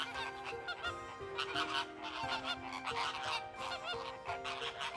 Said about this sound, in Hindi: सर्दियों की सुबह जब साइबेरिया और मध्य एशिया से आए पक्षी इस झील पर उतरते हैं